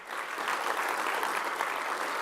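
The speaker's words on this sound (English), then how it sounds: "And then one more round of applause." An audience at a tech event gives another round of applause, a dense, even burst of clapping heard throughout without speech.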